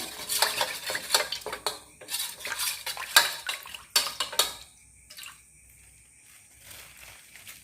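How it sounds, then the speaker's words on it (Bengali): A spoon stirs cornflour into marinated paneer in a bowl, giving a quick run of scraping strokes and sharp clinks against the sides before the sound drops to a quiet pause and a faint last scrape. "এই যে ম্যারিনেট করে রেখেছিল যে পনির আর এটা, ওই ওর মধ্যেই একটু কর্নফ্লাওয়ার গুলে নিচ্ছে"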